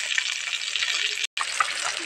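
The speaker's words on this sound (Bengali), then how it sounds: "এখন লেজাগুলো ভেজে নিচ্ছি।" Koi fish tail pieces frying in oil, a close steady sizzle and crackle with a brief cut partway through and no talking.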